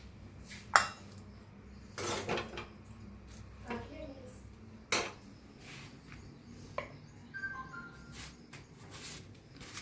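A child's school tiffin box being packed with chapatis and matki dal: scattered clinks and knocks of steel containers and lids, a few sharp metallic taps among quieter handling, with a voice talking at times.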